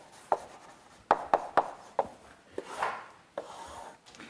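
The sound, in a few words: chalk sketching a graph on a blackboard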